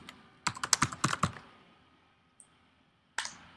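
Fast clicking keystrokes on a computer keyboard while a group name is entered in software, a quick run of taps followed by a pause and one last louder key press.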